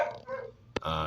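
A pet dog barks once sharply near the end, a brief close burst that cuts over low indoor background noise and murmur.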